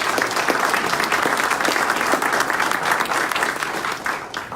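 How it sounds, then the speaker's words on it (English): Steady, dense applause from a large crowd, loud and continuous throughout, easing slightly toward the end. "if you would join me in a round of applause for the CBA staff"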